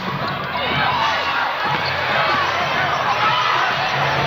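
Spectators in a basketball arena cheer steadily during a WNBA game between the Atlanta Dream and the Las Vegas Aces, a loud, continuous crowd roar heard under a commentator's voice.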